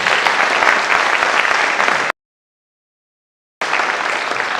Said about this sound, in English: Can we give him a better clap?